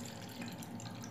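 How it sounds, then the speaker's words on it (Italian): Water poured steadily out of a small pot into a container, a continuous close splashing trickle for about a second with no talk. "Dobbiamo svuotare con molta attenzione l'acqua che c'è dentro"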